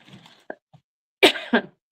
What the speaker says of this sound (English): I cannot stop coughing